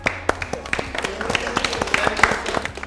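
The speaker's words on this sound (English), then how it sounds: "So if we can have a round of applause for Nathan" A small audience claps for a competition winner, scattered individual claps building into light, uneven applause that stays close and moderately loud.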